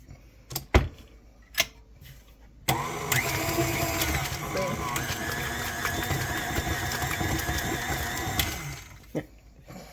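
Cream being beaten into butter with an electric mixer, a steady loud whirring motor running for about six seconds after a few brief knocks, with clatters at the start and end.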